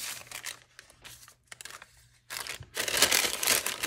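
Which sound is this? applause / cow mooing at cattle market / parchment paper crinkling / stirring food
parchment paper crinkling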